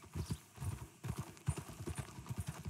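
A horse's hooves clip-clop in a steady, quick trot across a town street in Red Dead Redemption 2, close and distinct, with faint voices or game chatter mixed underneath.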